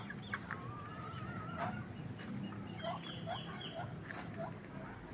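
Chickens cluck softly at a distance over a steady, noisy outdoor background, with scattered short calls and no clear talking.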